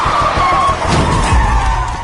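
A car skids hard during a chase, with a loud continuous screech and rumble of tires on the road lasting about two seconds.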